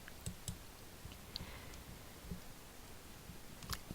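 A computer mouse clicks several times at irregular intervals, faint and close, against a quiet background hiss.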